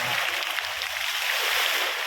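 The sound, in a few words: fast-flowing water at a large pond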